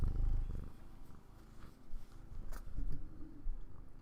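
Steady low rumbling purr from a cat, close and continuous in rhythmic waves, with faint background rustles and no talking.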